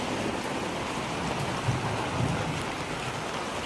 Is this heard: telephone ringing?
no